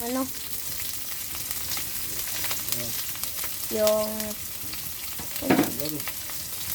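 Garlic fries in a pan for a crab and seashell dish, a steady close sizzle with occasional stirring clinks, while a few faint tonal sounds pass in the background.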